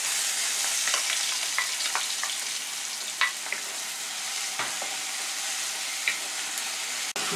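Chopped onion frying for pumpkin talkari, a steady close sizzle in a hot pan with occasional soft clicks and stirs, no talking.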